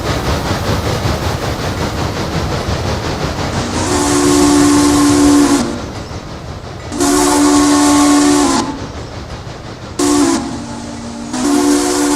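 A steam locomotive whistle in the train game Railroader sounds in three loud, sustained blasts, the first and second long and the last broken into two short bursts, over a steady rumbling hiss of rolling rail cars.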